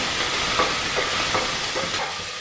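Tomatoes and curry leaves being stirred in a hot pan, a constant hissing sizzle with soft rhythmic scrapes every half second or so.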